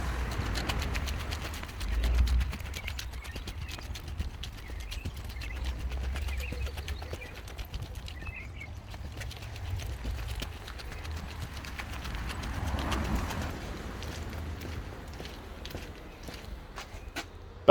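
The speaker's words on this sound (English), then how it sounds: "he really likes the sounds of my footsteps as I walk around the yard when it's sped up" Footsteps crunching around an outdoor yard, played back sped up so the steps come as a quick, steady clip-clop patter, close and fairly loud with faint birds behind and no talking.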